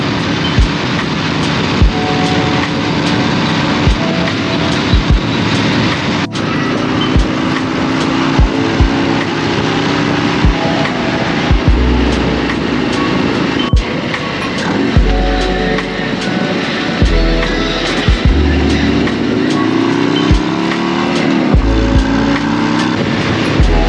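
A Harley-Davidson motorcycle on the road, its engine droning loudly and continuously with heavy wind rush and occasional thumps, shifts in pitch as the ride goes on.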